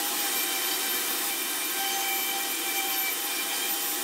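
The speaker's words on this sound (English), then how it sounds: "I'm gonna use the orbital sander with 150 grit sandpaper" An orbital sander fitted with 150 grit sandpaper runs steadily on painted wood, giving a constant close whirring hiss with gritty rubbing that holds at even loudness throughout, with no talk.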